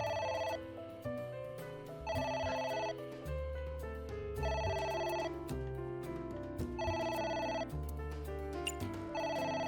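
Phone ringing in AI The Somnium Files, four evenly spaced bursts of electronic trilling bells over a steady game music bed, loud and close.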